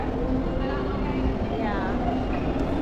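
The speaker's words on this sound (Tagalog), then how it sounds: "The train is here." A train rumbles into a station in Hong Kong on the way to Disneyland, a loud, steady low roar with faint squealing overtones, while people talk over it.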